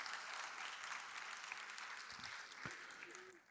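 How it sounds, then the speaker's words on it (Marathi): Faint, distant audience applause for performers at a felicitation ceremony, a steady patter of many hands that slowly fades, with some voices under it. "जोरदार टाळ्या आपण वाजूया त्या कलाकारांसाठी"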